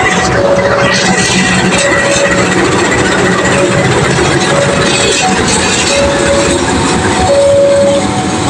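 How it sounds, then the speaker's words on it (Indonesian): A Bandung Raya local train locomotive shunts eastward toward its waiting carriages, a loud continuous diesel rumble with metallic rail clatter and intermittent squealing tones, close and steady throughout. "langsiran lokomotif dinasan kereta api lokal Bandung Raya dilangsir ke arah timur menuju ke rangkaian persiapan disandingkan kembali"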